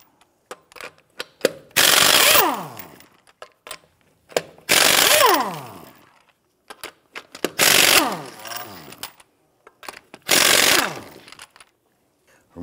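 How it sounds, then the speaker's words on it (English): Socket wrench with a 21mm socket freeing lug nuts on a 1992-1996 Toyota Camry, heard as four loud, close bursts of buzzing rapid rattling, each about a second long, with short clicks and pauses between them. "Use a 21mm socket to go ahead and loosen and remove the lug nuts."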